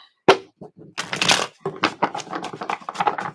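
Tarot cards shuffled by hand in a quiet room, a sharp snap followed by bursts of riffling and rustling in an uneven rhythm, close and fairly loud with no talking.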